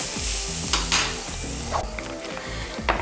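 Potatoes sizzle loudly in a hot pan while a utensil scrapes and stirs them, with occasional clinks against the metal.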